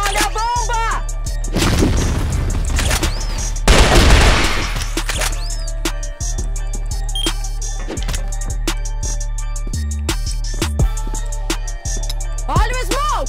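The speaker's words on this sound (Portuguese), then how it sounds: "Olha a bomba!" Grenade explosions and gunfire in a shooter game, with loud crashing blasts and scattered sharp shots over a steady hum, and a voice talking through it.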